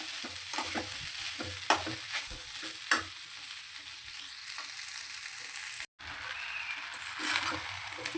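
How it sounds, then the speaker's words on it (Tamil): Leftover cooked rice with salt frying in a pan over low heat, a steady soft sizzle with occasional sharp scrapes and knocks of a stirring spoon, close and fairly quiet. "அந்த சாதம் அந்த பச்சை வாசனை போகிற அளவுக்கு நல்லா சிம்லே வச்சு ஃப்ரை பண்ணிவிட்டு"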